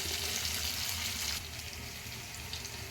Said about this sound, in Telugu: చూడండి ఫ్రై అవుతుంది